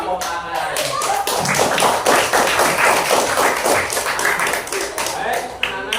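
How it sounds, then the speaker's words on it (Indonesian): A classroom of elementary school children at SDN Manyaran 1 clapping their hands together in a rapid, irregular burst that builds loud and then tapers, with some voices mixed in. "tepuk tangan."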